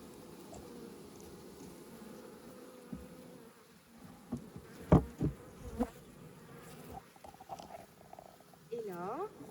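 Honeybees drone softly at the entrance of a hive holding a captured swarm, with sharp handling knocks midway and a brief voice-like sound near the end.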